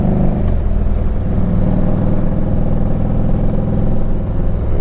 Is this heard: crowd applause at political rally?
no